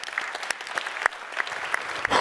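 Applause from the audience at a high-level panel conference, a moderate, sparse patter of clapping hands in a large room that swells slightly near the end.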